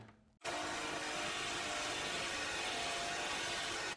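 A power socket tool spins up abruptly and runs with a steady loud whirring buzz, tightening a bolt on a Dieselgeek MK4 Panzer skid plate, close by and alone.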